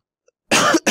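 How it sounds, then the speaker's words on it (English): Two harsh, close coughs in quick succession after a moment of silence, the first longer and the second cut short. "Sorry for coughing."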